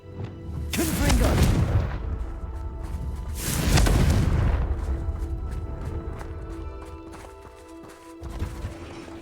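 Confringo fire spell blasts in Hogwarts Legacy: two loud, booming explosions a few seconds apart, each with a deep rumbling tail, followed by a quieter thump near the end over steady game ambience.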